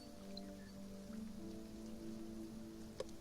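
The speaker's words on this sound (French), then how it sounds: "vu qu'il pleut" Steady rain falls in the survival game Sheltered, a constant hiss of drops patters evenly throughout over a low game hum, with one brief sharp tick near the end.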